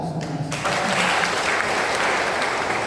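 Audience applause at a thanksgiving celebration marking ten years of priesthood, a steady dense wash of clapping that starts after a brief bit of voice and holds loud and even to the end.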